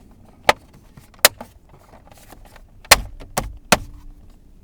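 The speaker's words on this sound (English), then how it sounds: "all I have to do is reattach this lower cover for my steering column" A plastic lower steering column cover is snapped back into place in a car, giving a handful of sharp, close plastic clicks and knocks spaced irregularly, with quiet rustling between them.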